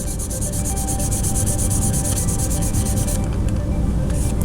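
A plastic 1981 Hot Wheels Rapid Transit school bus toy is wet-sanded with 1000 grit paper to remove scratches, making a loud, close, rhythmic rubbing of quick back-and-forth strokes that eases off near the end.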